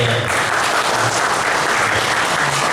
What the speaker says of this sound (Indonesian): Boleh tepuk tangan dulu untuk beliau.